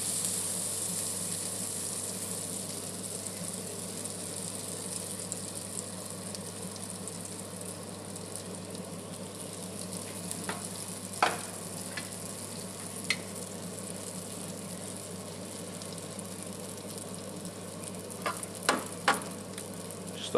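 A snapper fillet sizzles steadily in butter in a pan, a constant close crackling hiss with a few sharp pops and ticks near the end, and no talking.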